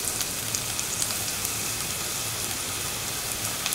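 Shallots fry in hot oil in a pan, giving a steady, even crackle and hiss that holds at a fairly quiet level throughout, with tiny pops now and then and no talking.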